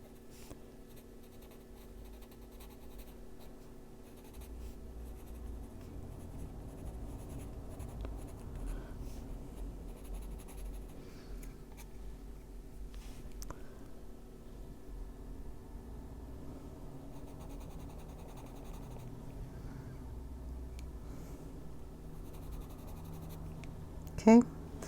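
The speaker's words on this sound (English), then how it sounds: "we go back with the lemon yellow and touch those corners so it doesn't look so stark white" A lemon yellow colored pencil shades the corners of an intricate ink leafy sea dragon drawing. It makes a continuous soft, close scratching and scraping on paper, with quiet talk in the background.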